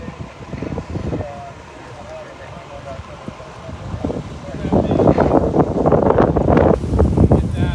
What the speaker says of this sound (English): the wind is blowing to my right now, blowing away from us. But it was whipping up pretty good.